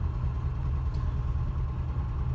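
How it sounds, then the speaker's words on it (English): A 1984 Subaru GL engine runs steadily at close range, a constant low rumbling idle with even mechanical drone and no voices over it. "That's pretty much it with the engine."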